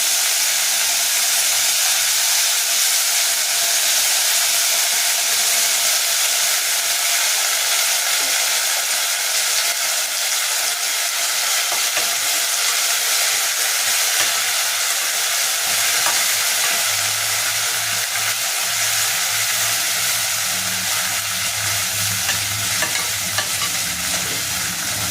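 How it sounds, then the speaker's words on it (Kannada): Fenugreek leaves dropped into hot oil for chicken keema, a loud, continuous close sizzle and hiss that holds steady throughout, with faint stirring underneath. "ಎಣ್ಣೆ ಕಾದ್ಮೇಲೆ ಸ್ವಲ್ಪ ಮೆಂತ್ಯ ಸೊಪ್ಪು ಹಾಕ್ತೀನಿ"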